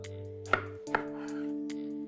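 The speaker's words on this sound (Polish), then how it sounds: "Warzywa kroimy w grubą kostkę, ponieważ będziemy je zaraz dusić w rondelku." Knife chopping vegetables into thick cubes on a board in a kitchen, with two distinct sharp chops standing out over a steady background hum.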